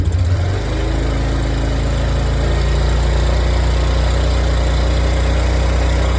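A Honda scooter engine idles loudly and steadily up close, a continuous low mechanical drone with no pauses.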